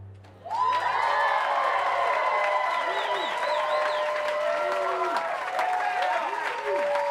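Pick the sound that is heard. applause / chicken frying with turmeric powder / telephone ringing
applause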